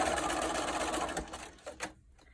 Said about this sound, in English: I'm just gonna really quick sew this square together